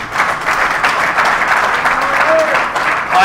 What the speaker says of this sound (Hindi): इनके लिए एक बार जोरदार ताली बच्चों के